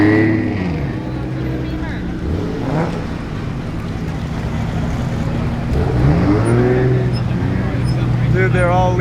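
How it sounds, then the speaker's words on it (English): A Toyota Supra, a Nissan Skyline and a Mazda RX-7 leaving a Caffeine and Octane car meet in Atlanta, engines revving and rising in pitch as the cars pull away under loud talk and crowd noise. "We got the Supra, the Skyline, and the RX-7 leaving"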